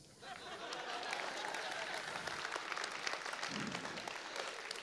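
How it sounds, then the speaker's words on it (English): Applause from a conference audience at an oral and maxillofacial surgery meeting, a steady, fairly quiet wash of clapping that swells in after a brief hush and continues, with some faint crowd voices mixed in. "Usually, this gets a huge applause."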